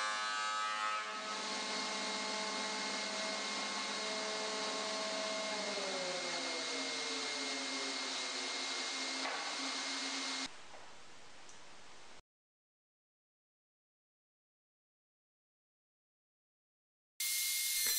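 An old shop vac converted into a small dust collector runs with a loud steady roar whose pitch slides down partway, then it cuts out into silence before starting again at the end.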